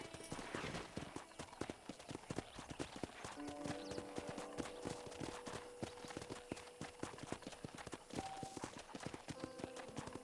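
Steady clip-clop of horse hooves trotting at an even pace in the video game Red Dead Redemption, fairly close, with a faint musical tone drifting underneath.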